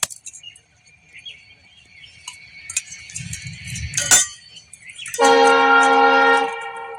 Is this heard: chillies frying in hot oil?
no